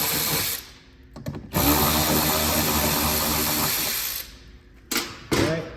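A power tool spins out the factory splash guard bolts on a fourth-generation Toyota Highlander, a close, loud whirring run of a few seconds followed by two short bursts.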